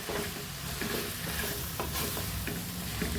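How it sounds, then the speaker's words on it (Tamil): Masala sautéing in hot oil for a dry fish curry, with a steady close sizzle and intermittent stirring scrapes throughout. "அதுக்காக கொஞ்சம் அந்த எண்ணெயிலே வதக்கிக்கலாம்."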